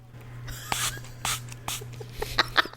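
A small dry-mouth spray bottle gives a few short, close, soft hissing puffs in a quiet room, with light clicks between them.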